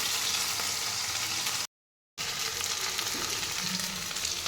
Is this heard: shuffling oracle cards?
no